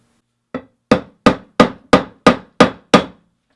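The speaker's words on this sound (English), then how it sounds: "you just slide the bag on and set your rivet" Hammer blows setting a rivet in a leather satchel: eight sharp, evenly spaced strikes, the first lighter, each ringing briefly, close and loud against silence.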